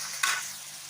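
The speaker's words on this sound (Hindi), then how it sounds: "फ्राई कर लेते हैं इसे।" Onion frying in a pan for a home-cooked egg curry, a steady close sizzle with a sharp burst of crackling as it is stirred, then settling back to an even hiss.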